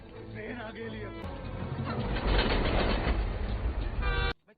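A train passes in a film scene, heard as a rumbling, clattering roar that builds to a loud peak and then cuts off abruptly, with other sounds faintly present at the start.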